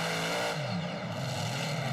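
A super modified pulling tractor engine roars loud and steady during a pull on the dirt track at Lucas Oil Speedway, a dense continuous drone with a slight dip in pitch partway through.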